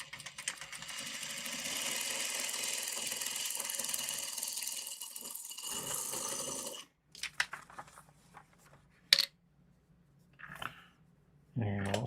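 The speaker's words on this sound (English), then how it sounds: "Let's back stitch a little bit." A sewing machine runs steadily while back stitching, then stops around the midpoint, followed by brief handling noises, short clicks and a final short burst of stitching.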